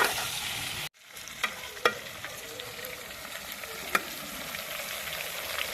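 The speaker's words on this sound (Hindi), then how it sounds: "चिकन को हम अच्छे से गोल्डन कर लेंगे।" Constant crackling sizzle of chicken frying golden in a pot, briefly cut off then resuming, with occasional spoon scrapes and clinks, close up, no speech.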